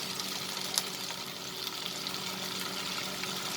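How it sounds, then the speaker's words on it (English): Chicken, French beans and capsicum sauté with soya sauce in a hot pan, producing a close, continuous frying sizzle with a few light stirring scrapes and no talking. "We'll saute it for a minute."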